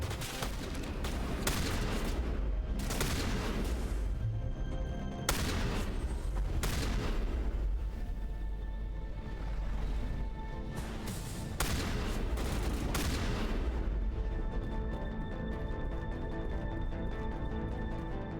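Shotgun gunfire in Mass Effect Legendary Edition: repeated loud, close blasts in irregular bursts over a steady battle din, with short pauses between volleys.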